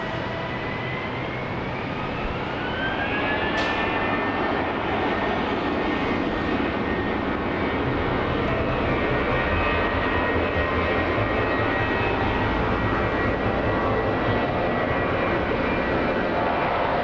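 An airplane landing on runway 01 at Brisbane Airport, its steady engine roar and rising whine holding loud and close for the whole stretch with no talk over it.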